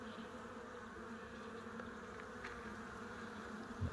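Honey bees drone in a continuous low buzz around an open hive during an inspection, faint and steady, without talk.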